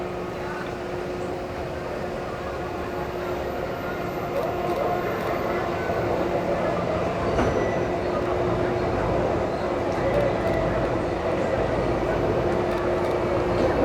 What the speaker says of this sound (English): All right, train's coming.